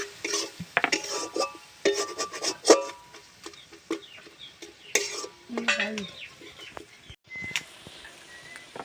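Meat curry stirred in a pot with coriander leaves, a spoon scraping and clinking against the metal in repeated irregular strokes, close and fairly loud, with faint background noises.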